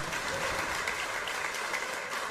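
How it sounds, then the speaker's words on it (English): A wrestling crowd at an indie event cheers and applauds steadily for El Generico, a dense, loud wall of clapping and shouting that runs the whole time without a break. "They are giving Generico all the support they can"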